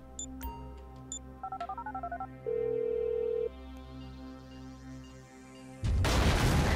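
Phone dialing in Grand Theft Auto 5: a quick run of warbling DTMF key tones, then a steady held call tone over a low game hum, cut off by a sudden loud burst of noise at the end.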